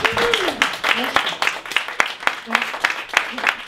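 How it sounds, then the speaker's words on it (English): A comedy show audience gives a warm round of applause, distinct sharp claps in an uneven rhythm with a few voices calling out underneath, fairly close and loud. "I think that we should still give her a warm round of applause."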